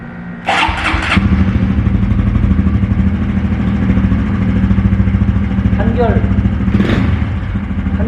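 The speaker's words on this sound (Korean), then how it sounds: "뭐 쓰던 플러그라 시동을 거나 만 하겠지만" Honda Super Cub motorcycle with a used spark plug cranking with a few quick bursts, then catching and settling into a loud, steady, close idle with even rapid pulses; a brief noise rises near the end.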